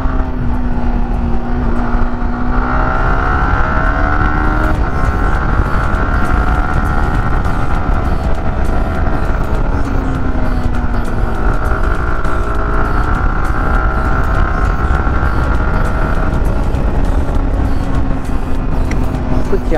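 A Yamaha R15M motorcycle on a busy highway, its engine note climbing and dipping through repeated rises in pitch as the rider opens the throttle, loud and close over constant wind rush.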